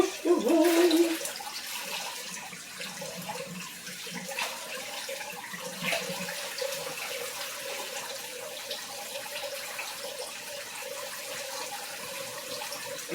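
Rice is washed under a running kitchen tap, with a steady stream of water splashing into the pot and grains being swirled, continuous and close throughout.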